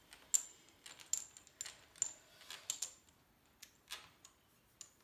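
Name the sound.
dominoes being turned over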